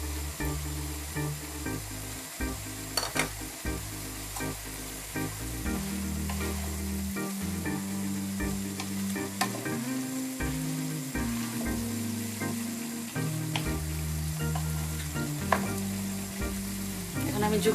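Mixed vegetables with zucchini stir-fry in a hot pan with soy sauce, giving a steady, close, continuous sizzle and frying hiss with faint stirring throughout and no voices.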